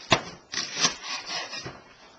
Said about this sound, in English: the trick here is to take the leeks first, cut the ends off